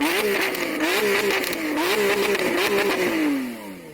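A loud, close Lamborghini Aventador SVJ engine revs repeatedly in rising and falling surges, a high-pitched supercar roar that winds down at the end.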